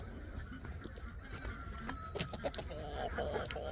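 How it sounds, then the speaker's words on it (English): Geese honk on a homestead, several brief nasal calls in a loose cluster at mid-distance, mixed with other farmyard bird sounds and faint background noise. "Is there a bird? Oh, geese."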